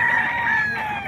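A rooster crows once close by, a loud sustained, wavering call filling the whole moment with no talking over it.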